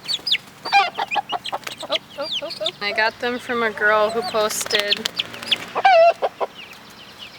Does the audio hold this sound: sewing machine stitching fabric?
no